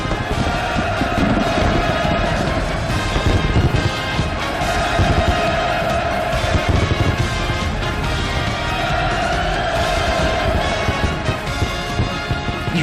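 Massed crowd roaring hurrahs across a military parade square at a Workers' Party of Korea 80th anniversary parade, a dense, continuous, loud wall of voices swelling and holding for the whole stretch.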